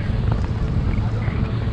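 Strong wind buffeting the microphone on a catamaran tour, a loud constant low roar and rumble with a faint hint of boat engine beneath, steady throughout and without clear talking.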